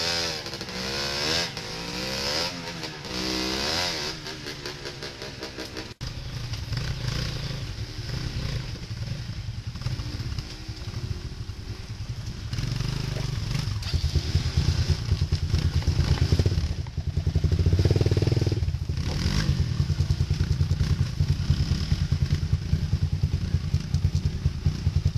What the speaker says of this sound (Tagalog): Yung motor ni John Paul, makikita nyo umuusok.